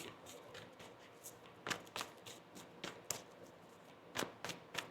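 A tarot deck being shuffled by hand, with soft riffles and taps in uneven bursts, close and quiet with no voices.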